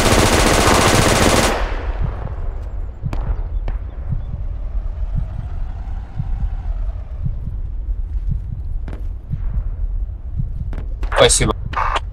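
Machine gun fire in the Project Reality combat video game: a loud wideband burst at the start, then scattered single shots and short bursts at varying distances over continuous game ambience.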